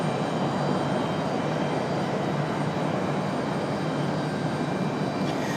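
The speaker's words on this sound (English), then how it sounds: "got a CRJ over here pushing back" A CRJ regional jet pushing back at Raleigh-Durham International Airport, its engines giving a steady, broadband roar that holds at even loudness throughout, with no talk.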